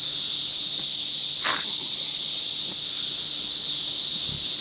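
Brood X periodical cicadas, the 17-year brood, chorus in Ohio in a loud, unbroken high-pitched droning whine that fills the whole moment, with a few faint nearby rustles and bumps.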